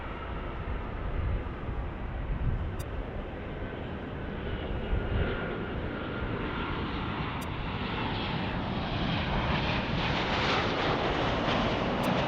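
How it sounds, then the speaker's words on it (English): Jet airliner engines, a Boeing 767 and an Airbus A380 at Los Angeles International Airport, roar in a loud, steady broadband rumble for the whole stretch, with some wind buffeting mixed in and no talk. "you can hear those engines roar from the 767 and the A350"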